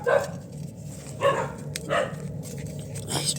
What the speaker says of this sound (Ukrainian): Сусідські собаки на мене зараз нападуть